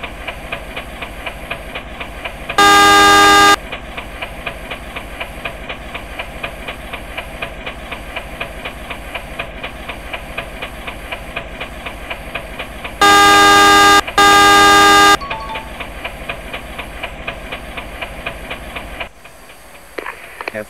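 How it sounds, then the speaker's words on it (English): A train horn in an Indonesian railway simulator game blares in three loud, steady blasts, one short and then two in quick succession, over a constant hissing engine drone that drops away near the end. "Blow horn and see if they budge."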